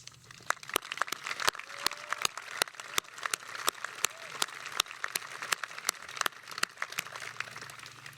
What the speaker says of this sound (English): give yourselves the tremendous, rousing round of applause that you deserve